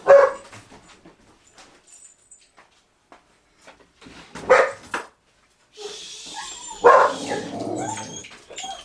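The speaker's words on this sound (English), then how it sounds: "Quite what they're barking at, I don't know." Several sharp dog barks come in scattered bursts, some close and loud, with a whimpering yip and background hiss between them.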